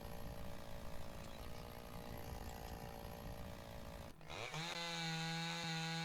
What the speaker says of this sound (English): we're going to chop a tree down